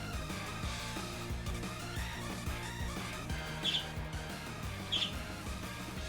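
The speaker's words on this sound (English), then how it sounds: "Sorry that my birds are chirping." Two short, high chirps from pet birds in the room ring out a second apart, fairly faint beneath steady electronic music from a Pokémon Scarlet & Violet battle.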